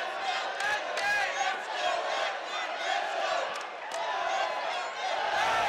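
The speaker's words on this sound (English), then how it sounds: "This crowd chanting Eduard's name." A large arena crowd at a ONE Championship fight chants and roars steadily for fighter Eduard Folayang, with rhythmic swells of voices filling the space and an announcer talking over it.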